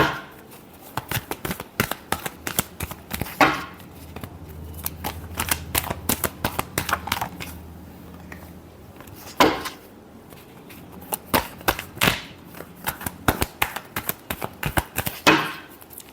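Rapid riffling and slapping of tarot cards being shuffled, repeated bursts of crisp flutters and taps close by, with short pauses between rounds.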